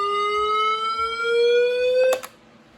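A weather radio sounds its 1050 hertz test siren, a loud, piercing steady electronic tone that holds for about two seconds before cutting off abruptly.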